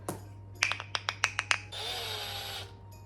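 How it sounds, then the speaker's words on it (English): A string of sharp clicks and taps gives way to a steady high-pitched whir of a power drill boring a pilot hole in wood for about a second, close up. "Doing a pilot hole first."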